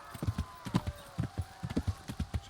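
Horse hooves clip-clopping in the medieval video game Kingdom Come: Deliverance, a quick uneven run of about twenty close, moderately loud thuds with faint game ambience behind them.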